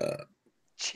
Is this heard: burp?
yes